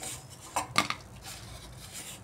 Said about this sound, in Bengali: আলু ভাজিগুলো হয়ে এসছে, এগুলো আমি নামিয়ে নিচ্ছি।